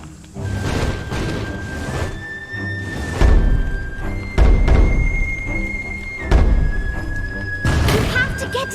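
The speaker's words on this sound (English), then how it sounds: "Stick a bomb on that glowing taiko drum" A bomb blasts against a glowing taiko drum in the Puppeteer video game: a few heavy, booming thuds land several seconds apart over sustained musical tones and background game sounds.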